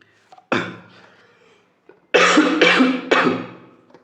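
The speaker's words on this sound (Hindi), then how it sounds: "खांसी बहुत ज़्यादा है" A man with a heavy cough lets out one hacking cough, then a pause, then three rapid, loud coughs in a row, close to the microphone with no talk.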